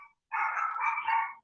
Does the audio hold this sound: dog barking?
yes